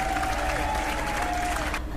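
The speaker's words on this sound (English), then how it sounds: "Give it a round of applause for her." Classroom audience applause, a steady moderate wash of clapping with a few voices calling out over it, cutting off abruptly near the end.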